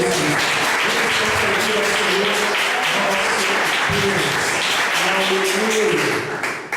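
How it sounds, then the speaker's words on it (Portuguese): A church congregation claps continuously in dense, steady applause for Jesus, with voices speaking and calling out over it before it tapers off at the end. "dá uma ligação de palmas para o Senhor Jesus"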